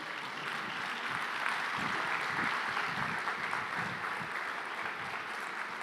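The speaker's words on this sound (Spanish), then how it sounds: "denle un fuerte aplauso al Señor Jesús." Standing church congregation applauds, a continuous wash of many hands clapping heard from a distance, steady and fairly soft from start to finish.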